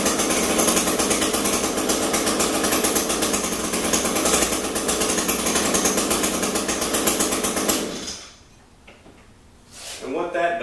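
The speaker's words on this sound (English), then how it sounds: "We want to go ahead and start the engine, allow it to cycle completely for a few moments." A small carburetor engine runs with a loud, fast, buzzy idle close by for several seconds, then cuts out into quiet before a brief rattle of noise returns.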